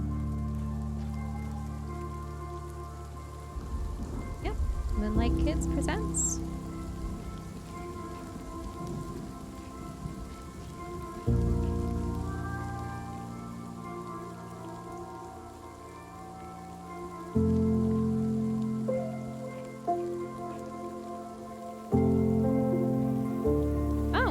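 Steady, heavy rain pours in The Wild At Heart game, with deep rolling thunder swelling and easing in waves underneath; a voice briefly speaks over the downpour near the start.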